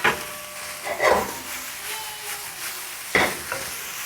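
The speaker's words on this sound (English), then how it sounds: "Now add the garlic and the green onion." Garlic and green onion hitting a hot pan for Taiwanese braised pork, a soft continuous sizzle with a few sharp stirring scrapes and clacks, close and fairly quiet, no voices.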